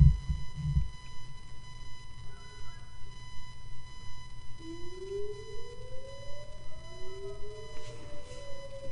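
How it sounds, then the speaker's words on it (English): A distant tornado siren, sounding in a test, slowly winds up in a long rising wail, faint against a quiet background hum. "Did you hear the tornado siren?"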